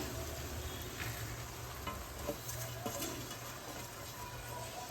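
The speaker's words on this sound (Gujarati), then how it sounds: "હવે આપણે જે મસાલો બનાવ્યો છે મિક્સ કરીને એ આપણે એની અંદર એડ કરી દેવાનો છે" Spoon stirring spice masala into soft cooked okra in a pan for a Gujarati bharela bhinda dish, a steady low sizzle with light scraping and stirring strokes at close range, no talking.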